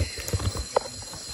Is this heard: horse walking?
yes